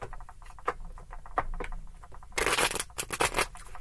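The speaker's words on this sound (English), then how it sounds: "They don't want to shuffle." Tarot cards shuffled by hand, with soft irregular riffling taps that give way to a louder, dense burst of card flicks near the end.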